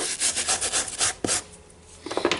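Rapid back-and-forth strokes of a medium-hard brush scrub a sprayed rubber part of a Makita reciprocating saw blade holder up close, a rhythmic rasping that pauses briefly before a few final quick strokes.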